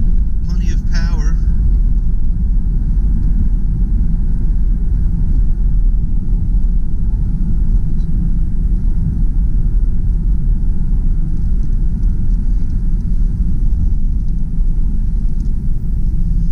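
A 2005 Saturn Vue with a 5-speed manual transmission accelerates on the road, giving a steady, loud low engine and road rumble that holds evenly throughout, with a voice speaking over it.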